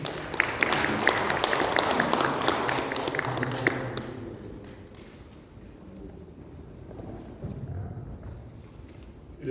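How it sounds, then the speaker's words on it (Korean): Audience applause welcoming a speaker at a Korean civic forum on constitutional reform: dense, fairly loud clapping for about four seconds, then dying away into quiet room noise. "큰 박수로 맞이해 주십시오."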